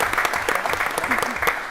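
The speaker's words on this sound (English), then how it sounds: "So, give them a little round of applause because they're a little nervous." A round of applause from the audience at a board of education meeting, steady, dense clapping with sharp individual claps near the front, carrying through the whole short stretch.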